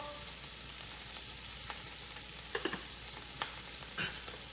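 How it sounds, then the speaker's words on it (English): Onions sizzle softly in a pan of meat and olive oil fat, a steady low frying hiss with a few faint clicks and pops. "I'm gonna get my onions right into this nice meat and olive oil fat"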